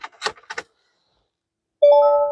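A few soft clicks and key jingles from a Hyundai Porter double cab's key and ignition, a short silence, then a clear electronic chime rings steadily from the dashboard, close and fairly loud.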